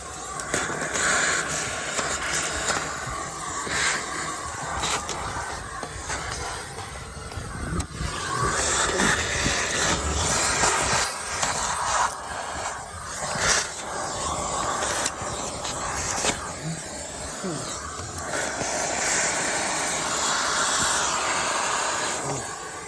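A vacuum sucks debris out of a jet boat engine under the valve covers, producing a continuous loud hiss and rush with fluctuating clatter as bits are pulled in.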